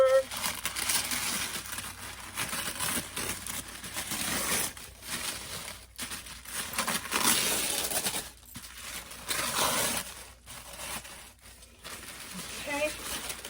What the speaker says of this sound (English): So next I'm going to go ahead and just cut into the wrapping paper.